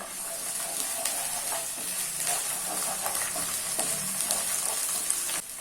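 Onions fry in a pan while ginger garlic paste is stirred in, a constant bright sizzle and hiss broken by the scrape and clatter of a spoon against the pan, with no one talking.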